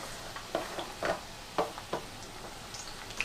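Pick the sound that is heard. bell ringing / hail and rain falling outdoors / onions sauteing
onions sauteing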